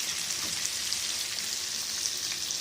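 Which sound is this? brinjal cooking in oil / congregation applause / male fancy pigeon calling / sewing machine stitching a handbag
brinjal cooking in oil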